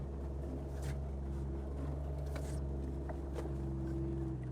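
A cheap $100 off-road car pulls away in a steady, loud engine drone with a low hum that holds level throughout, with no voices.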